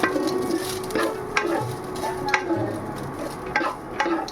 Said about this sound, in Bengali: মৌর এখন ভাত ফ্রাই